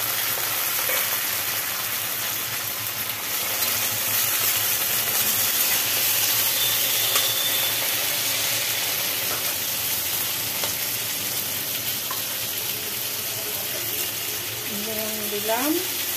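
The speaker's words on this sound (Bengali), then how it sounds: "তেল গরম হয়ে গেছে। পেঁয়াজ আর টমেটো, পেঁয়াজ আর টমেটো দিয়ে দিচ্ছে।" Onion and tomato frying in hot oil give a steady, close sizzle that runs through the whole stretch, with a few faint clinks and stirring scrapes on top and a voice that rises briefly near the end.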